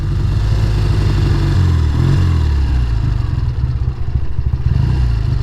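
A 1969 Triumph T120R motorcycle engine idles close by, a steady loping low-pitched rumble with a loose mechanical clatter running throughout, no voices present.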